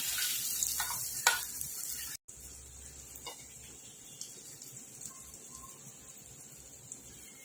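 Handvo batter of moong dal poured into hot oil with sesame seeds, asafoetida and dried red chillies, crackling at first and then settling into a steady, soft sizzle with scattered pops, heard close with no talk.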